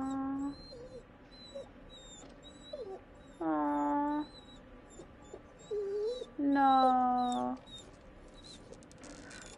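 A frightened dog whimpers inside a farmhouse in the horror video game The Devil in Me, giving faint, brief whines and yips between louder bursts of a voice speaking nearby.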